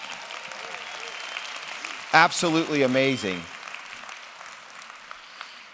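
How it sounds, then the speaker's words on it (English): A crowd of listeners applauds steadily throughout, with a brief spoken exclamation rising over the clapping partway through. "let's give a round of applause to these stories that have been shared this morning."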